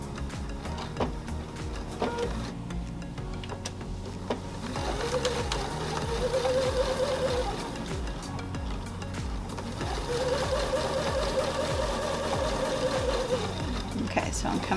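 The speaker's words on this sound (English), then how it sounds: "And then you will go ahead and sew along this edge until you come to the end of the yellow." A sewing machine stitches along the edge of yellow fabric for a log cabin quilt, running in a fast, steady rhythmic whir with a rising hum between stretches, while someone talks.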